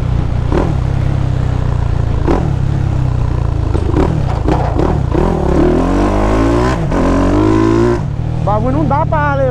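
470cc motorcycle engine revving hard during a wheelie, loud rising and falling revs with clattering and wind noise, close to the rider.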